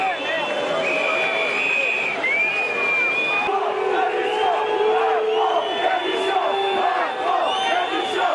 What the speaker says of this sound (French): j'entends des sifflets, hein. Beaucoup de gens qui sont en train de huer au passage du président de la République.